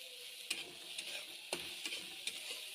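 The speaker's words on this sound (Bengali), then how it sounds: "সামান্য নুন দিয়ে দিলাম আর দিলাম হলুদ দিয়ে এখন ভাজবো।" Puffed rice being stir-fried in a pan with a little salt and turmeric gives a steady dry rustling hiss. Several sharp scraping stirs land at irregular intervals, with no talking.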